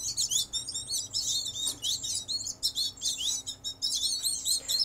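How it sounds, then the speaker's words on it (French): American goldfinch fledglings chirping: rapid, bright, high tweets in overlapping bursts, close and fairly loud, continuing without pause throughout, with no voices. "c'est un petit chardonneret jaune"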